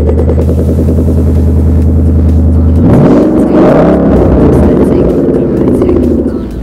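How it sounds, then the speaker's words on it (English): A 2011 Ford Mustang GT Premium coupe with a 5.0 V8 and Roush exhaust, idling with a steady, close, deep rumble and then revving hard into a loud, rising roar that settles back down. "What I want to do is fire this car up so you can hear this"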